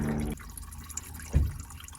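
Coolant water drains from the radiator drain plug at the bottom corner of a Nissan Qashqai, a faint trickle and a few soft drips against a quiet workshop background, with one slightly louder splash near the end.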